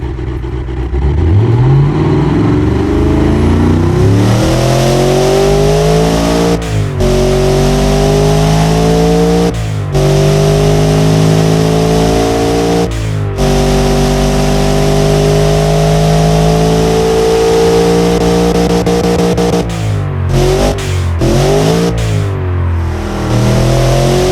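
A Cadillac 500ci V8 in the Automation racing simulator revs hard and loud, its pitch climbing and falling through several throttle blips, with brief cutoffs between runs and no talking.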